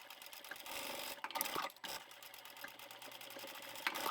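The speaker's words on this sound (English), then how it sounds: "We'll go and sew that one in place now." A sewing machine stitches an adjustable shoulder strap for a crossbody satchel bag, running in a steady close whir with a brief pause and a few faint clicks partway through.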